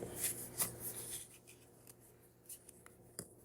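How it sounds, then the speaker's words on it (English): Tarot cards are shuffled by hand close up: quiet, irregular papery riffles and soft slaps in small bursts over a near-silent room. "I am shuffling some tarot to get some overall direction"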